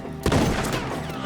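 Gunfire in Red Dead Redemption 2 during a shootout with enemies up in the trees: a sharp, loud burst of shots that booms and rolls into a sustained, echoing tail.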